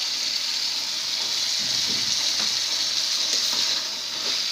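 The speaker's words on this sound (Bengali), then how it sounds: "এবার আমরা এর মধ্যে আলুগুলা দিয়ে দিব।" Potatoes go into chicken curry sautéing with spices in a pan, giving a steady, close sizzle with soft stirring scrapes throughout.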